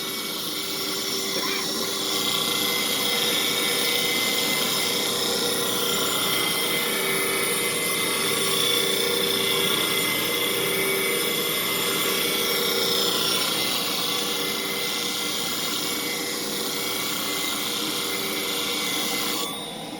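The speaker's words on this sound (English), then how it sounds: "This particular machine is the most expensive clipper blade machine out there today." A clipper blade sharpening machine grinds steadily and loudly for the whole stretch, a constant dense abrasive whir with no breaks.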